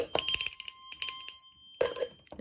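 A small handheld bell rings in two bright jingling bursts, the first longer with rapid repeated strikes, then a short second shake after a pause, close and clear.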